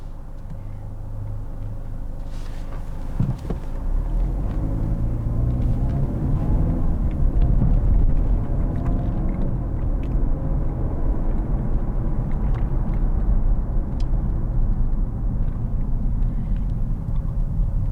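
Road traffic builds into a low, steady rumble of car engines passing close by, with a brief knock early on and no voices heard.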